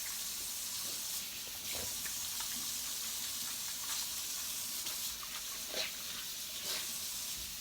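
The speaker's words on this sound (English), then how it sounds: "I'm going to do is wash my hands really quickly because I have dough on my hands" Kitchen tap water runs as dough-covered hands are washed under it: a continuous, even hiss of flowing water broken by a few faint splashes and clatters.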